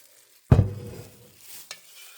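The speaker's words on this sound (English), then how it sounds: "And now I stir it up." A utensil stirs sourdough starter, a mix of flour and water, in a container: one sharp, loud scrape and thud, a short fading rumble, then a faint second knock, with no talking.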